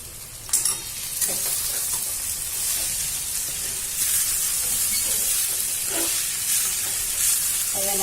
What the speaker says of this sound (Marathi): दोन तीन मिनटं चांगलं परतवायचं